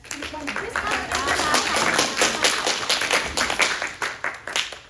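Applause and scattered clapping from an audience, dense and steady, with a voice partly audible underneath.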